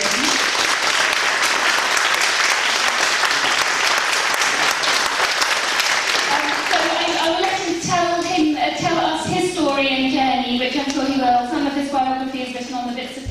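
A lecture audience claps loudly and steadily for about six seconds. The applause then fades under a speaker who starts talking at the front of the room.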